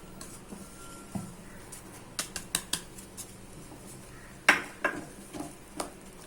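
A thickening coconut milk mixture for a kalkandu cake is stirred in a pan over low heat, with a run of close, sharp scrapes and clicks from the spoon against the metal.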